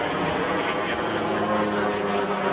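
A Spitfire aircraft roars steadily overhead as it rolls over, its loud, continuous engine drone filling the whole stretch without a break.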